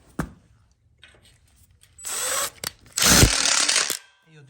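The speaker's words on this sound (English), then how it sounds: "you'll lock it in with a low profile screw on the other side of the union" Low-profile screws are driven in with a power driver to lock a backsplash extension onto an outdoor kitchen frame, heard as two short bursts of whirring with a sharp tap and a few clicks before them, close and loud.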